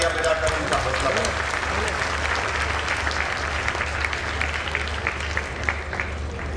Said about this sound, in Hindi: एक बार तालियां बजाकर उनका हौसला बढ़ाएं।